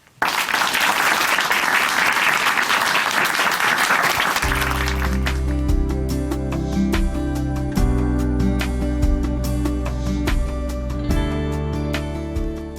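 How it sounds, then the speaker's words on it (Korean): Applause from a church broadcast audience welcoming a guest speaker, a broad wash of clapping that gives way midway to loud instrumental music with steady tones while clapping continues faintly underneath. "춘천 한마음교회 권오관 형제님 박수로 모십니다"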